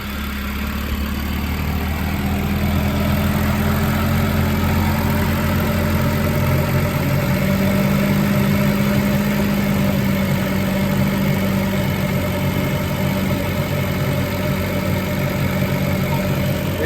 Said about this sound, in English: you're going to let the engine idle for about 10 to 15 minutes on warm temperatures